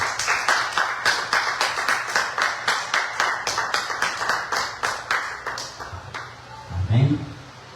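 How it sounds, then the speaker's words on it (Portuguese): A church congregation claps in steady unison, a quick regular beat of sharp hand claps filling the room for several seconds before fading, with a brief voice rising near the end. "As palmas do Senhor Jesus."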